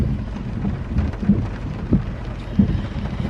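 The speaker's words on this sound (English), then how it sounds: "It's been raining for I feel like 2 to 3 days straight." Heavy rain drums on a car during a drive, a dense steady patter with a few louder splashes or thumps at intervals.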